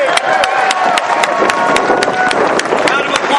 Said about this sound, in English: Round of applause, Senator Maher